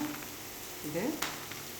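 Masala and roasted peanuts dry-roast in a pan without added oil, giving a faint, steady low sizzle with a brief stirring scrape and a small click partway through.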